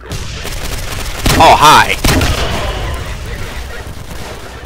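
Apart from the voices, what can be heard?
grenade launcher explosions and gunfire in video game SMOD Outbreak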